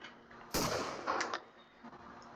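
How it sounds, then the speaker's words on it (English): A single sharp gunshot bursts out in a video game as an enemy fires on a factory, followed by a couple of softer crackling reports, with no talking. "There's one guy shooting my factory."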